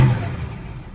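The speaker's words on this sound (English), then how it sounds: "that's that 307 small block with 305 HO heads on it" 1964 Chevy Nova with a 307 small block V8 wearing 305 HO heads, idling with a low steady rumble, loud and close, a short burst that fades slightly, no voices.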